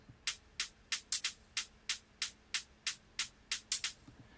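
Second hi-hat variation in a dance track, a steady run of crisp, bright ticks with occasional quick doubled hits, quiet and alone over faint background hum.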